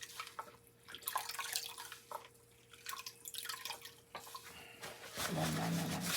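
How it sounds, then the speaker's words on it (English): A paint sponge rinsed in water while painting trees with acrylics, with soft splashes, trickles and drips sounding close and quiet, ending in a brief pouring rush, with no talk. "I'm rinsing off my sponge again."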